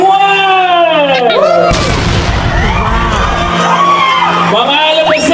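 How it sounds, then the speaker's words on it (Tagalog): A grand fireworks display in Lopez, Quezon erupts in a dense burst of loud booming explosions after a countdown, with whistling rockets rising and a crowd cheering and whooping before and after the blasts. "ang Grand Fireworks Display"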